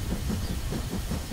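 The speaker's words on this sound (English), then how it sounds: "Let's go, Mr. Train." A cartoon train rolls along the track with a steady low rumble and faint rhythmic clatter over a hissy wash, continuous and fairly close for a brief moment.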